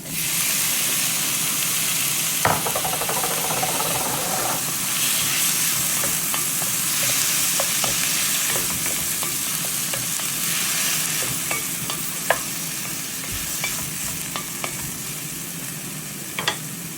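Garlic and tomatoes sizzle and fry in a pan for monggo, a steady bright hiss with scattered pops and occasional clinks of a utensil stirring, close and continuous without talk.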